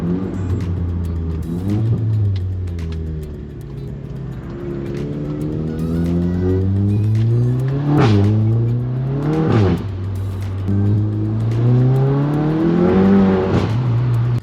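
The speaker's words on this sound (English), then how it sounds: "basically a straight piped exhaust with just one muffler on it" A loud, raspy straight-piped exhaust with a single muffler on a Stage 2 MK7 Volkswagen GTI revs repeatedly, rising and falling in pitch over and over, close by, with crackles and sharp bursts between the revs.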